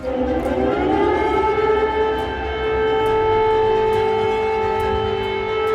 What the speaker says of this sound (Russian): Очень было страшно первый раз слышать звук сирены